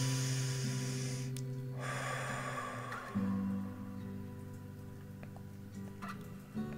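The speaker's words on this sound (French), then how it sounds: "Une respiration." A person drawing one slow, deep breath during a guided relaxation, a soft airy inhale and exhale close to the microphone over a steady low music drone.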